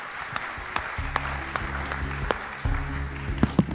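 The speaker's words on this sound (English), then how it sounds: "Can you please join me in thanking our panelists, Jan, Leon, Mellissa." Conference audience applauding panelists at the end of a panel session, scattered claps that are fairly sparse and quiet, laid over a low steady hum with tonal rumble.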